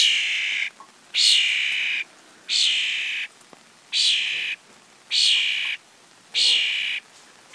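Repeated loud, harsh begging calls from a hungry baby starling on a rainy day, six drawn-out raspy bursts in a steady rhythm with short pauses between, close by and alone.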